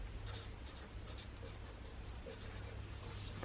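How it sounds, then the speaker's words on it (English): Pen or marker writing across the cover of a small folded paper zine, a faint continuous scratching under steady low background hum, with no voices. "so we're going to write cover on here,"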